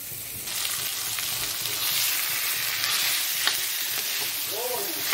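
Pieces of taro frying in hot oil with dried chilli, cumin and tomato, a steady close sizzle with the scrape of stirring, continuous and fairly loud throughout, with no voices.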